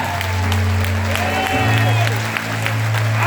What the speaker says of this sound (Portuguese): aplauda Jesus o mais alto que você puder